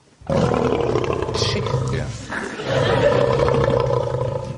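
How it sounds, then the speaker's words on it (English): A lion's deep, sustained roar played back as a recording, loud and continuous for several seconds, with a brief dip midway before swelling again; a single word is spoken over it. "This is the sound of a lion."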